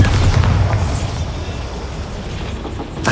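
A Bombarda explosion spell goes off inside a goblin mine in the video game Hogwarts Legacy, a loud low boom with rumbling debris, followed by a second burst near the end.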